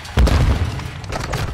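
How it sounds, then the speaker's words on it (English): A grenade blast in Call of Duty Modern Warfare 2, a loud, close booming burst that rumbles briefly and fades into background noise. "Oh, I got one with a grenade."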